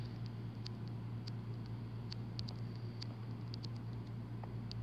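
Rain in the Minecraft video game patters softly and steadily under a constant low hum, with faint scattered ticks of drops and no talk.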